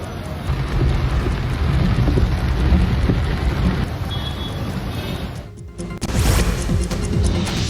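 Heavy night rain pours down during a thunderstorm in Chitradurga, Karnataka, a dense, loud, steady roar of falling water with a brief dip and a sharper crash near the end.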